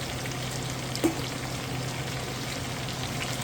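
Carrots, celery and onions sizzle steadily as they go into a hot pot for chicken and dumplings, a continuous close frying hiss with one brief knock early on.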